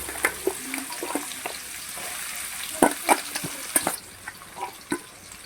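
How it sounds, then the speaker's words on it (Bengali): Chopped onions dropped into hot oil: a frying hiss throughout with several sharp clatters and spatters from stirring, close by, no talking. "তেলটা গরম হয়ে গেছে এবার আমি কুচানো পেঁয়াজ রেখেছিলাম সেটাকে দিয়ে দিচ্ছি"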